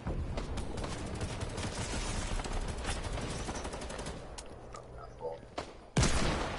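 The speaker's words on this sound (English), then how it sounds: "I hit banana with hand cannon." Rapid bursts of hand cannon gunfire in a battle video game, dense crackling shots with sharp reports, one loud final blast, and voices talking over the action.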